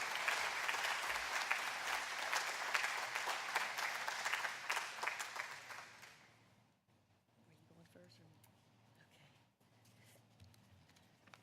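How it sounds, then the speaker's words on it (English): Ceremony audience at a campus ribbon cutting gives sustained, dense applause for two honorees, steady for about six seconds before dying away into a quiet room with faint scattered sounds. "we can maybe give them a round of applause"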